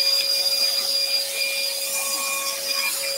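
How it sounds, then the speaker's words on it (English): A dust extractor whines steadily through scroll-saw work on wooden shelf brackets, a loud, even drone with a high tonal hum and no pauses. "Let's pop that extractor off so we can hear what we're doing."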